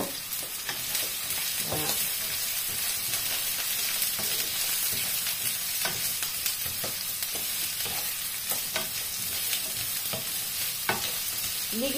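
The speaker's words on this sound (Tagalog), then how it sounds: "Ligisa lang natin yan." Leftover chicken and carrots sautéing in a pan for Filipino glass noodles, a steady broadband sizzle with frequent scraping stir strokes throughout, close and continuous, with no talking.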